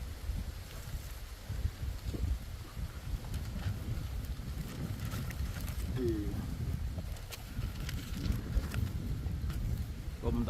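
Wind blows steadily outdoors with a continuous low rumble buffeting a phone microphone propped against a small tree trunk, while pigeons or doves coo faintly and a voice speaks intermittently.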